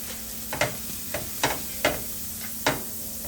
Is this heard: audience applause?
no